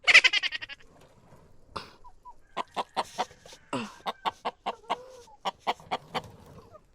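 Chickens cluck in quick, repeated bursts on a poultry farm, some sharp and close, with faint peeping of pecking chicks mixed in and short pauses between the calls.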